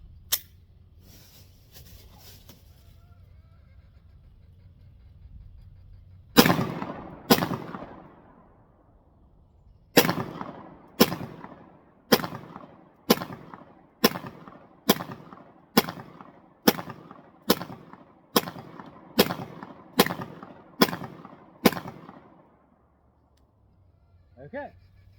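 Rapid pistol fire from a SIG 365 X Macro on an outdoor range: two quick shots, a pause, then a steady string of about thirteen sharp, loud reports at even, fast intervals, each with a short ringing decay.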